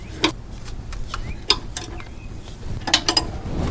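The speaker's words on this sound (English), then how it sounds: "and go ahead and tighten that right down" A ratchet tightens a sway bar endlink nut on a Jeep JL Unlimited, giving short bursts of sharp clicks close by, with a quiet pause between groups and a final rapid cluster.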